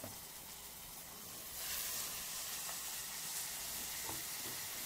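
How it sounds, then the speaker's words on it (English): Tomatoes go into a hot pan for huevos rancheros, a steady close sizzle and hiss of frying that swells louder partway through and continues without talk. "now I'm going to add my tomatoes"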